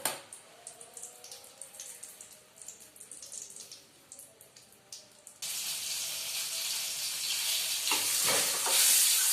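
Tomatoes fry in a pan for eggplant chutney. Faint stirring and light sizzling come first, then a louder, steady sizzle rises and fills the rest.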